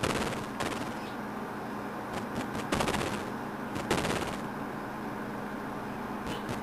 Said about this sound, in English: aside from the gunfire and explosions, there's a lack of sound in this game